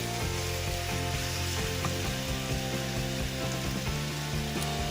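Large shrimp sizzle and fry in hot oil in a pan for a shrimp curry, a steady close crackle running throughout with occasional stirring clatter and no talk.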